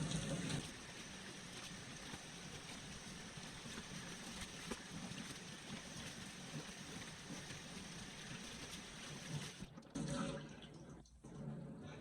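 A steady stream of running water rinses shampoo out of a silk top wig for about ten seconds, a continuous splashing wash that cuts off briefly near the end before resuming.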